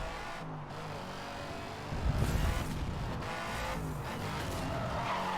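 Aston Martin Vantage drifting in the racing game Need for Speed Hot Pursuit: quiet engine hum with tire skidding that swells around the middle and carries on at a steady level.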